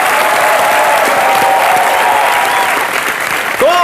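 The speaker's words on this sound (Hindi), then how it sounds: "जोरदार तालियां करीना और इमरान के लिए।" Studio audience on a comedy show greets Kareena and Imran with loud, sustained applause, a thick wall of clapping and crowd noise running unbroken through the whole moment, with a few tonal squeals over it.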